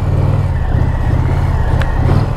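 Loud, steady engine drone of an Indian Challenger motorcycle being ridden in sport mode, a constant low rumble with rushing wind noise throughout and no voices.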